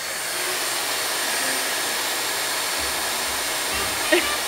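A vacuum cleaner runs steadily and loudly up close while vacuuming a Bernese Mountain Dog pup, a constant broadband whoosh with a faint thump near the end.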